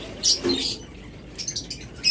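Caged red-eye lovebirds chirp in short, sharp bursts, a few scattered calls close by with brief quiet gaps between them.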